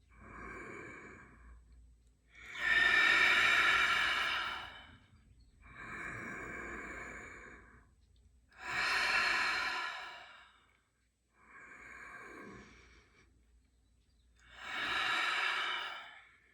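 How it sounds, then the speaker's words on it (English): Three slow, deep breath cycles during a meditation: each soft inhale is followed by a louder, longer exhale, close and alone, with steady pauses between them. "3 deep breaths here together as one"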